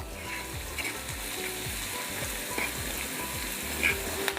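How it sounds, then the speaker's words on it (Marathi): Curry leaves sizzling in hot oil for a sprouted matki curry, a continuous crackling fry with spattering pops and a few stirring scrapes, fairly close and steady. "यात आपण आता सात आठ पानं कढीपत्त्याची टाकून घेऊ"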